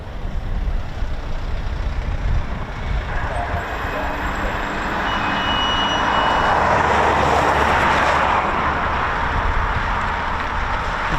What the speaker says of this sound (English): where the aircraft is actually gaining speed before it goes into a vertical climb.